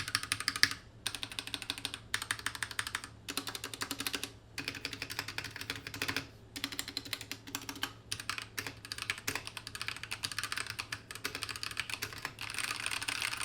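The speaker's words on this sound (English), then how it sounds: "Even with the stock switch, you could definitely make this thing sound like a custom keyboard." Fast typing on a mechanical keyboard, a dense clatter of key presses with brief pauses between bursts, close up and steady, no voices.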